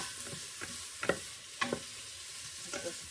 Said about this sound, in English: I've been stirring this for 3 to 5 minutes